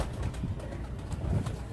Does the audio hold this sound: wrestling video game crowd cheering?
no